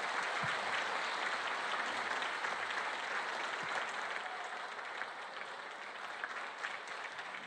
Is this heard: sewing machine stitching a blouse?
no